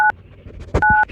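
Phone keypad dialing the Australian emergency number 000: two sharp dual-tone beeps, one brief and one held longer, loud and close, with soft handling noise between them.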